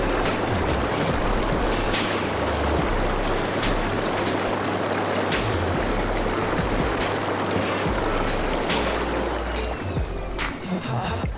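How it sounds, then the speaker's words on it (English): Air jets in a Lay-Z-Spa Hawaii Hydrojet Pro inflatable hot tub bubble continuously, a loud, dense rushing froth that holds steady throughout. "the bubbles themselves make quite a lot of noise"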